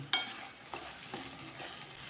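Masala spices with crushed kasuri methi roasting in a pan, heard as a faint close sizzle with a few soft stirring scrapes and a sharp clink near the start.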